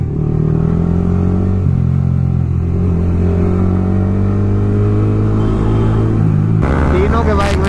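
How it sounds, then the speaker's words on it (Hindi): Loud motorcycle engines with full-system exhausts rumble and rev nearby at a toll plaza, deep and throaty, pitch shifting as they accelerate, ending in a sharp burst of revving. "तीनों के बाइक में grub oil full system super loud है"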